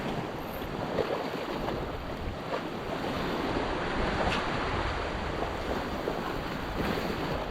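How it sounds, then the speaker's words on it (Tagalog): Calm sea off the Philippines heard from a small fishing boat, a continuous soft wash of waves mixed with steady wind rumble against the microphone, with no voices. "Ang kalmadang dagat."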